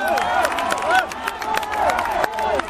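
A crowd at a Thai music festival claps and cheers in a steady wash of applause, with voices calling out above it.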